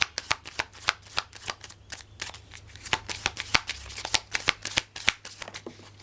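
Tarot cards shuffled by hand in a steady run of crisp riffling bursts and soft slaps, close and fairly loud, continuing for several seconds with no talk over it.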